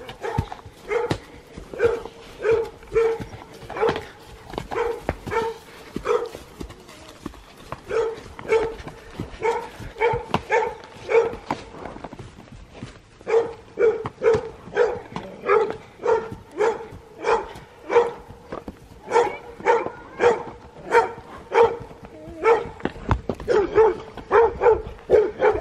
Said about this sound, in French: il fait que d'aboyer